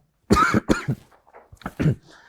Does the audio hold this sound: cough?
yes